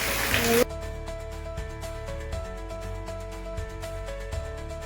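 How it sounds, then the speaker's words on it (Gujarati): Scattered sharp taps of hailstones strike a surface amid steady heavy rain in a village, over a low constant hum. "કરા પડ્યા છે, વરસાદ ફૂલ આવે છે."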